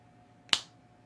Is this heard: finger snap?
yes